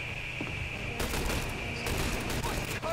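Gunfire in the Xbox 360 shooter The Bureau: XCOM Declassified: a steady bed of game noise with a high tone, then from about one second in a run of rapid, dense shots that keeps going to the end.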